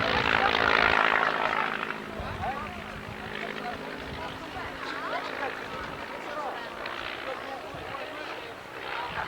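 A propeller aircraft of about 535 horsepower flies a sideways-sliding display at an airshow, its engine drone loud at first, then steady, with a commentator talking over it.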